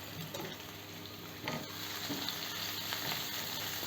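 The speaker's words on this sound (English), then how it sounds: "The pan is hot. We'll add some jeera to it." Cumin seeds and green chilli sizzle steadily in a hot pan, a continuous frying hiss with faint stirring scrapes and small pops, with no talk.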